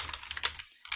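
Typing on a computer keyboard while entering text in a Google spreadsheet, including a Control Enter key combination: a quick run of close, crisp plastic key clicks, a brief pause, then a final tap.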